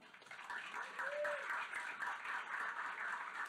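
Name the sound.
audience applause welcoming a speaker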